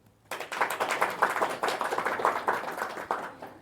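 An audience at a yoga class breaks into sudden, lively clapping after a moment of quiet, a dense and uneven patter of many hands that keeps going at full strength.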